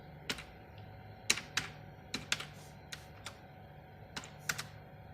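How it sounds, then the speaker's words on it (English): Password keystrokes typed on the computer keyboard of an aging Core 2 Duo PC under overhaul: about a dozen sharp, separate clicks in an irregular rhythm, close and clear against a faint steady hum, with no talking. "Now I'm gonna enter my password."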